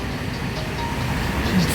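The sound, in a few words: MRT train passing near station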